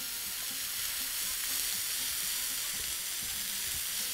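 Food frying in a pan and being stirred, a close, steady crackling sizzle with soft scraping and stirring sounds running continuously underneath.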